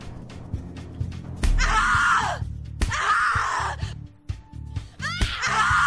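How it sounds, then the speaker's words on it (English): A woman's screams from the horror video game The Cat Lady, three long loud anguished bursts separated by brief gaps with low groaning and rumbling in between. "Scream louder, little bitch! Scream your lungs out!"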